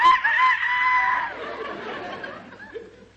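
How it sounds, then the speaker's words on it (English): A loud rooster crow rings out close by, long and drawn out, then trails off into quieter noise. "that's the rooster. It's morning."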